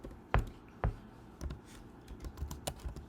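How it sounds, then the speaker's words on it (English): Typing on a computer keyboard, a handful of separate key taps with a couple of firmer strikes, then a quicker irregular burst of clicks, close and quiet with no voice. "Can't type one-handed."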